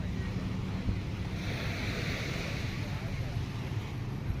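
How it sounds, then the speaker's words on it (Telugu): Surf rolling in at Jomtien beach in Pattaya, a steady broadband wash of waves with some wind noise, continuous and fairly close with no distinct breaks. "ఈ జామిటిన్ బీచ్ అయితే ఇంతే అండి"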